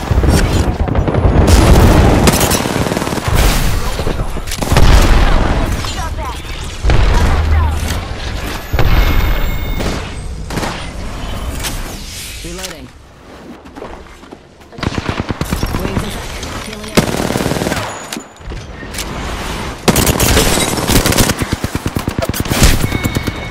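Video game combat: dense, loud machine-gun bursts and booming explosions roll almost without pause, with brief lulls between volleys.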